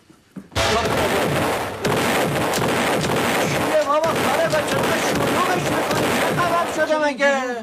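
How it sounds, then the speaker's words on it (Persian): Gunfire during a tense armed confrontation, a dense barrage of loud, rapid shots and bursts that fills the scene continuously and close by. "دارم شلیک میکنم الان."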